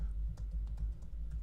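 A handful of soft keystrokes on a computer keyboard entering a prompt, with light irregular clicks over a low steady hum.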